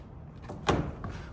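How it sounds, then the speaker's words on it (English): The rear door of a Genesis G70 sedan opening during a walk-around, a single soft latch click and muffled thunk, close and brief over low background rumble. "Opening the back door."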